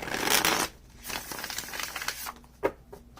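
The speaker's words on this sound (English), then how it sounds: "So first, I'm going to shuffle" Close, brisk riffling of a tarot card deck in quick bursts, with short pauses between shuffles and a sharp tap near the end.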